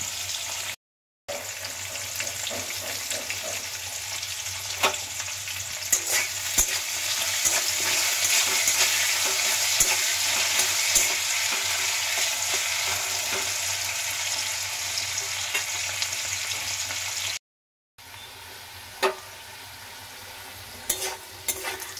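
Thick-cut potato pieces with turmeric and salt frying in a pan, a loud continuous sizzle with frequent stirring scrapes, close up, broken by two brief silent gaps.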